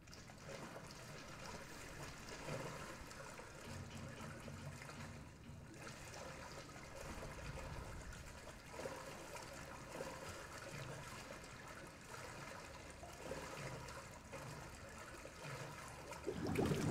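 Water trickling and dripping in a damp basement in the horror game Resident Evil 7, a steady, quiet wet trickle running throughout with no one talking over it.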